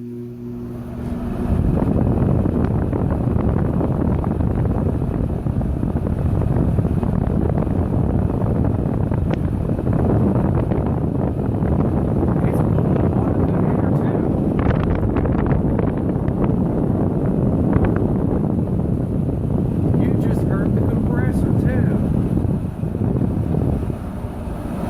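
An Arctic King window air conditioner runs on high cool, giving a steady, loud rushing blower noise with a low rumble that continues unchanged throughout.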